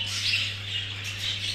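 Several pet birds squawk and chirp inside a cage, a dense, continuous chatter of shrill calls close by with no speech.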